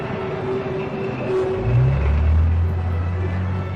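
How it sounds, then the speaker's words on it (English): A heavy M60 tank rumbles steadily in close, loud low-frequency roar, with a deeper thump and swell as it rolls over a bump. "Now watch how the vehicle responds over the bump."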